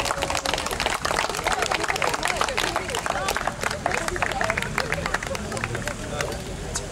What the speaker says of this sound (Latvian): Pauzi jāizpild ar aplausiem.